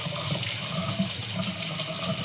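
Hot water running steadily from a newly installed sink faucet into the basin, a continuous close, even rushing hiss with no pauses or voices.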